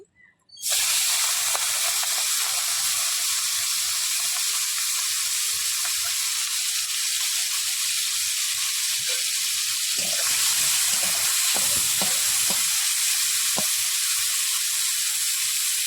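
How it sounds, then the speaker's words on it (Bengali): Salted, turmeric-coated prawns drop into hot oil in a wok and fry with a loud, dense, continuous hiss that stays even throughout, joined later by a few soft knocks and scrapes. "মাছটা দিয়ে ভেজে নেব।"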